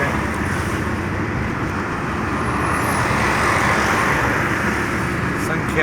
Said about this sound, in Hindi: ट्रैफिक की रफ्तार आप देख रहे हैं।